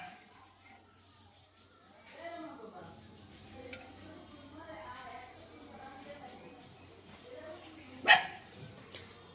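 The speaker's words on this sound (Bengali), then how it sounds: "ওই কুকুরটা পর্যন্ত ঘেউ ঘেউ ঘেউ ঘেউ করছে।" A dog barks a few times at a distance in a rural yard where a large snake was found. The barks are fairly faint and mixed with people talking nearby, with one sharper bark standing out near the end.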